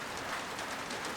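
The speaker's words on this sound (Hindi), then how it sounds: "बाहर काफी जोरों की बारिश हो रही है" Heavy rain falls outside in a steady, even wash of noise, a constant hiss of drops striking surfaces without pauses, fairly soft and with no voices.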